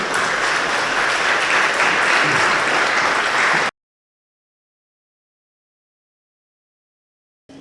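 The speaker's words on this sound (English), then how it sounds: "Another round of applause, I think, is due" An audience at a business breakfast panel event applauds steadily and loudly for about three and a half seconds, then the room falls silent, and a brief burst returns at the very end.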